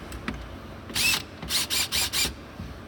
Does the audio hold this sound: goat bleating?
no